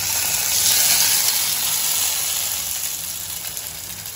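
Hot curry leaf tempering poured into a dish of yogurt fritters (doi fuluri), giving a steady close sizzling hiss that slowly fades over a few seconds, with no voices.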